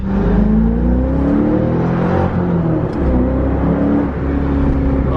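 A C5 Corvette with an aftermarket exhaust rumbles loudly up close as it backs out and drives off, its deep engine note rising and falling steadily with throttle changes.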